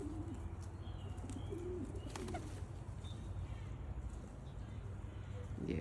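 Young Van Reet racing pigeon with a chest frill coos in low, soft repeated phrases close by, alongside other pigeons' murmurs and faint chirps in a loft.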